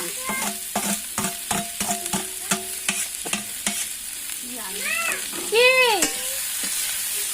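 Cabbage and green chillies fry in a pan with a loud steady sizzle, broken by regular scraping strokes of stirring near the mic, and a few high chirping calls rise over the frying toward the end.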